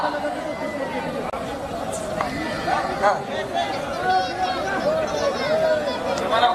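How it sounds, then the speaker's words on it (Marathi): Dense crowd chatter fills a wrestling arena, a steady hubbub of many voices near and far, with occasional shouts rising above the babble. "आखाड्यातील गर्दी कमी करा"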